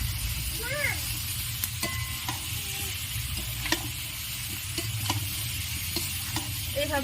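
Fried jackfruit and potatoes stirred and sautéed in a pan, a soft steady sizzle under repeated scraping clicks of the spoon against the pan, close and continuous.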